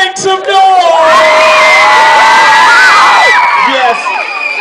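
A large crowd cheers, whoops and shouts loudly and continuously, many young voices yelling together in a sustained roar.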